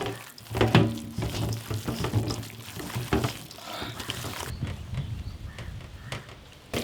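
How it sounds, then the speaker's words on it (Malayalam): Spice masala being mixed by hand with squeezed lemon and oil for a huge tandoor-roasted beef thigh, heard as a steady wet squelching and rustling with soft splashy stirs, close and continuous, no talking. "കുറച്ച് ചെറുനാരങ്ങ പിഴിയുക, കുറച്ച് ഓയിൽ കൂടെ ഒഴിച്ച് നല്ലപോലെ മിക്സ് ചെയ്തെടുക്കാം"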